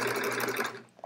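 Sewing machine stitching a quilt border, a close, rapid and steady mechanical whir with a fast even pulse of stitches, slowing and stopping just before the end.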